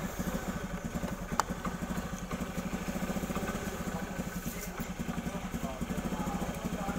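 A Honda Beat scooter engine idles with a steady low putter, a faint even pulse that stays constant in the background throughout.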